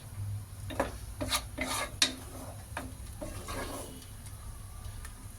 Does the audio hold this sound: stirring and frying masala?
yes